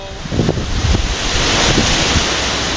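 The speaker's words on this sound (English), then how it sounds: "that wind is a-blowing" Steady outdoor wind roars and gusts against the microphone for the whole stretch, loud and continuous, with a washing surf-like rush underneath.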